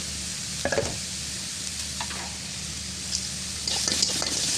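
Whole spices including cinnamon, black and green cardamom, cloves, black pepper and bay leaves stir and sizzle in a pot for chana dal, a steady low crackle with a few louder scraping stirs near the start and end.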